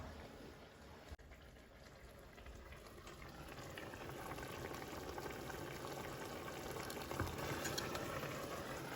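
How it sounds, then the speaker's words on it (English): Sugar bubbling and caramelizing in a pan, a faint, steady sizzle and simmer that slowly grows a little denser, with a soft clunk near the start. "You need to let this boil and caramelize."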